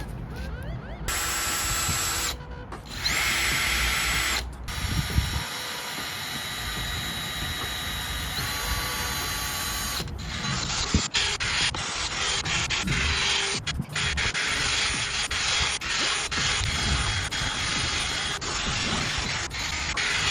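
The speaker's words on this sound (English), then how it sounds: "I'm thinking I might just dry sand with the 800 and the 1200" A powered sander dry-sands a Golf Mk5 headlight with 800 and 1200 grit paper, a close, continuous whirring buzz broken by short stops and restarts, with harsh gritty scraping over the motor hum.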